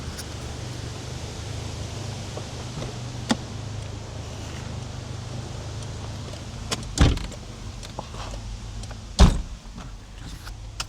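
Interior of a Toyota MR2 sports car as someone climbs in: quiet cabin hiss with a few light taps and rustles, then two solid door-shutting thumps, close and distinct.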